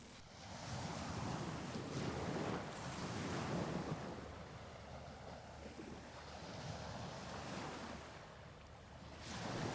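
Ocean waves rolling and washing ashore in soft, broad surges, with wind rushing past over a steady low roar and no voices.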